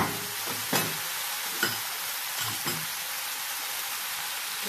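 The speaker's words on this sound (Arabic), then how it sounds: "وهقلب برضه كله مع بعضه تاني لحد ما الطماطم برضه تدبل معايا شوية مع المكونات" Chopped tomatoes and other ingredients are stirred together in a hot pan as they soften, a steady frying hiss broken by a few scraping strokes of the utensil, close and alone without speech.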